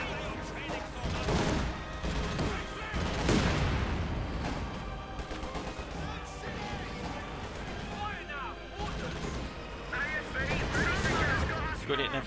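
Pak 40 anti-tank gun firing during a Company of Heroes 2 1v1 match, loud booming shots amid dense battle noise of gunfire and explosions, with commentary talking over it throughout.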